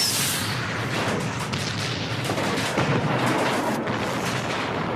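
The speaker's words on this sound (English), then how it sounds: "There's a bunch of gunshots, explosions everywhere." Action movie gunfire and explosions, a dense barrage of loud shots and booms rolling continuously like a battle scene.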